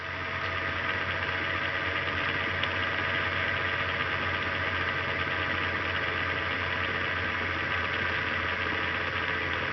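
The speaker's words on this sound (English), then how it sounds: "see how far advanced I can go and how fast this little motor will spin up" A small Bedini SSG pulse motor spins at speed, producing a steady, close electrical hum and whir with a constant tone that holds for the whole stretch.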